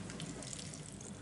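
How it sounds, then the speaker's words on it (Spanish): Water running from a kitchen tap, a soft, steady gushing hiss at low level, continuous and without talk. "estoy dándole aquí al grifo"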